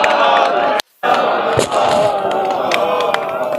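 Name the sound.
crowd clapping and chanting sadhu sadhu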